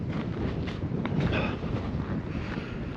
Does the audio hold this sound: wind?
yes